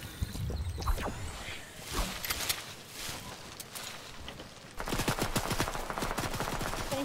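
Video game gunfire in a duos battle royale match rattles as rapid strings of sharp shots. Scattered bursts come first, then a denser, louder volley of continuous fire, at mid distance over game ambience.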